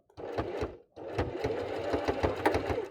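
A sewing machine back stitches through gathered fabric in bursts of rapid mechanical whirring, pausing briefly near the start before running steadily again at close range.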